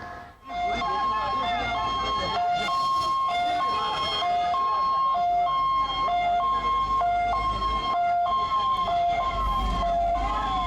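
Wailing fire engine sirens cycle continuously with a steady two-tone pattern, loud and fairly near, over background street noise and some voices, after a gas cylinder explosion in Dharavi, Mumbai.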